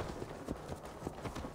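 Horse hooves clip-clop at a quick trot in the video game Assassin's Creed Valhalla, the even, rapid footfalls repeating steadily at moderate volume.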